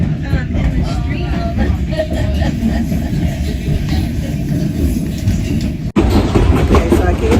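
A passenger train running on railway track in Alaska gives a loud, steady rumbling roar with faint rhythmic clatter and a brief dip near the end, heard from on board.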